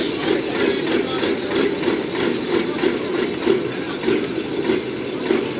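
A modified 2,000-plus horsepower semi truck named Inconvenience at the 2024 Grange Fair truck pull, its 2,200 RPM engine giving a heavy, steady rumble with a regular throbbing pulse, loud and close, with no distinct rev climb.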